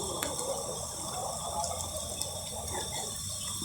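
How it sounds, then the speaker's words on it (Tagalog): Strong rushing water after heavy rain at a spot in La Maria where a wall collapsed, a steady loud broadband roar and gush that stays constant throughout, with no other sounds rising above it. "Malakas ng tubig eh."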